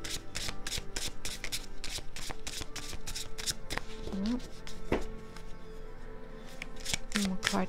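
Tarot deck shuffled during a Virgo card reading, rapid repeated riffling and flicking of cards, close and prominent, with a faint hum and a few quiet background sounds beneath.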